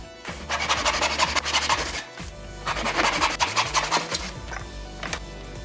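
Top edges of pine wood blocks being rounded over with a power tool, a loud continuous abrasive rasping in two long passes separated by a brief pause, close up.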